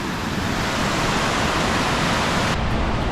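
Chittenango Falls waterfall roars as a loud, steady, broadband rush of water heard up close, continuous with no pauses.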